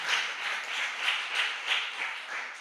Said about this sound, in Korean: 큰 박수로 우리 축하해 주시기를 바랍니다